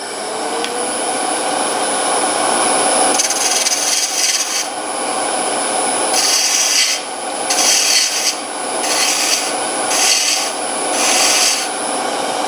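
A wooden bottle stopper spins on a wood lathe, a continuous close rubbing hum with repeated rasping surges as the cutting tool is pressed against the turning wood, no voices.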